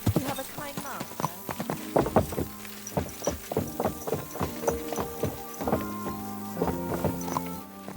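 Horse hooves clip-clop at a walking pace in the video game Kingdom Come Deliverance 2, close and rhythmic with uneven strikes throughout, and a brief whinny early on.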